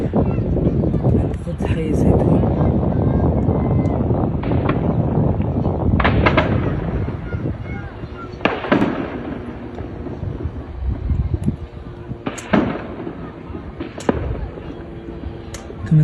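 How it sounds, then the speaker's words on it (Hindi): Gunfire from Israeli soldiers firing on people in Gaza: several sharp, loud reports, some single and some in quick pairs, ring out over a noisy, rumbling outdoor background with voices audible throughout. "كما تسمعون الآن إطلاق نار"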